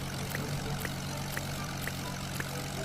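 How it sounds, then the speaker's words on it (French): Propeller airplane flying over a river in a Roblox game, a faint, steady droning engine hum with a low rumble and soft regular pulses from the spinning propeller. "quand je parcours la rivière sur mon avion"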